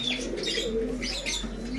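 Domestic dove-type pigeons at a pigeon sale in Khulna, Bangladesh, coo softly and continuously with low murmuring calls, alongside faint chirps and occasional wing flutters in a steady background.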